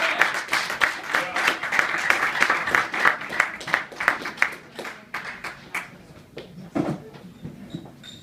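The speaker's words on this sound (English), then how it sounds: "Give him a round of applause." An audience claps to welcome a performer to the stage, a steady burst of applause that thins out into scattered claps toward the end.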